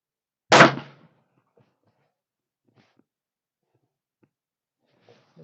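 A CZ 600 rifle chambered in 6mm Creedmoor fires a single sharp, loud shot at an outdoor range, followed by near silence with a few faint rustles.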